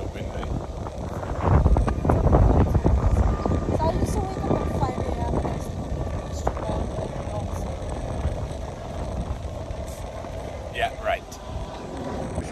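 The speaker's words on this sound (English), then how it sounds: "I think there's a lot of wind, eh?" Strong wind buffets the microphone with a steady broadband roar during a morning walk on a street in Vietnam, gusting hardest early on and continuing throughout with faint traffic or engine noise in the background.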